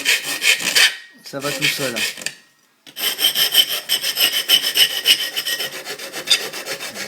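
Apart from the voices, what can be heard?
hand file shaping aluminium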